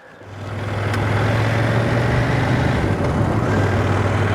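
A CFMOTO 800MTX adventure motorcycle rumbles steadily as it pulls away at the start of the Holland Track ride, a loud, continuous low engine drone rising from quiet and holding level throughout.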